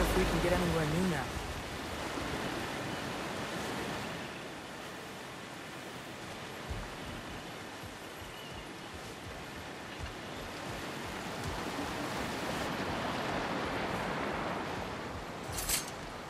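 Steady broadband rush of flowing water from a freed river in God of War Ragnarok, a continuous wash that swells slightly toward the end, with a brief brighter splash near the close and no talk over it.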